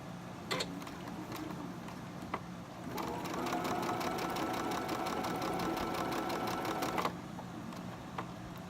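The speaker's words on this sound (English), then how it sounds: "And we're sewing this 1/4 inch." A sewing machine stitches a quarter-inch seam on quilt block pieces, a close steady rapid needle chatter running for about four seconds between quieter moments with a few faint clicks.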